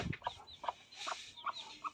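Small young roosters and hens clucking in a family backyard flock: several short, fairly faint clucks and calls in an irregular rhythm, heard alone without talk.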